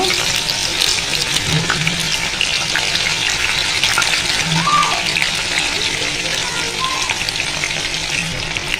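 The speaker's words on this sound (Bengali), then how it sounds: "তেলটা গরম হয়ে এসেছে এবার যাই মাংসটা দিয়ে দিব" Close, loud and continuous sizzling of chicken pieces frying in hot oil, a dense crackling hiss that never lets up.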